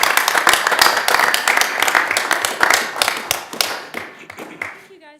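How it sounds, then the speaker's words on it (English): Audience applause at a Board of Aldermen study session in Branson: a dense, steady spread of clapping from a room full of people that holds for several seconds, then thins and fades out at the end. "Let's welcome them and give them a round of applause."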